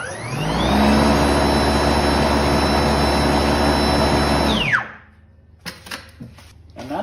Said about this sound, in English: watch the auger spin